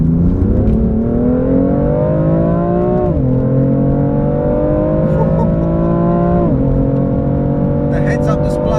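A BMW M4 Competition with 444 bhp accelerates hard on a dry, straight road, its engine note climbing steadily through the revs. Two quick dips mark upshifts, and the engine keeps pulling loud and close throughout.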